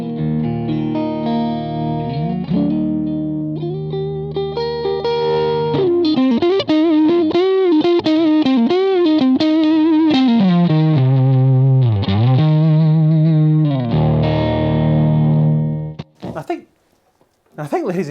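Electric guitar played through a DSM Humboldt Dumblifier Overdrive Special pedal, a robust overdriven tone with sustained notes and bending melodic lines, loud and up close, ending in a short burst of scratchy noise.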